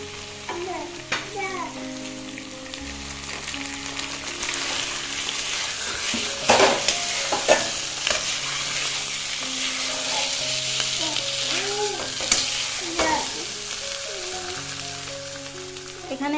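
Potatoes sizzle in oily spice paste for a village-style egg curry and are stirred repeatedly, a constant frying hiss broken by scraping strokes, with faint tonal sounds in the background.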